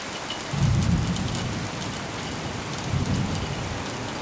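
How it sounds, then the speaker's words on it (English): Steady rain falls during a storm over the ocean, with two deep rumbles of thunder rolling in, the second one weaker, beneath the continuous hiss of rainfall. "You can begin to hear the thunder."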